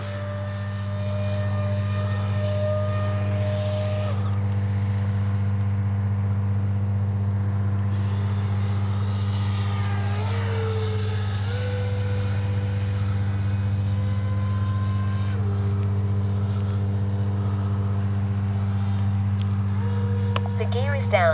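An H-King FlyCat V2 RC jet airplane flies along a runway with a loud, continuous engine drone and whining tones that rise and fall as it passes, with faint voice sounds at times.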